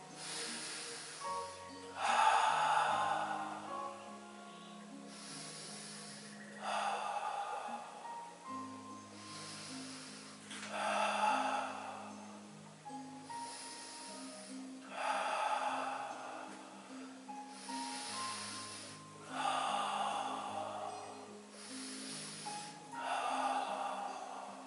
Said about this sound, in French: cette longue respiration Pilates